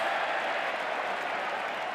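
A rugby league crowd at a 1995 Newcastle Knights versus Sydney Bulldogs match roars in a steady, dense wash of voices, chorusing for a penalty.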